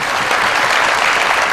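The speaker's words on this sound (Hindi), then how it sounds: "बहुत सारी तालियां" A studio audience applauds on a Pakistani late-night comedy talk show, a loud, dense, steady wash of clapping that fills the whole stretch with no voices over it.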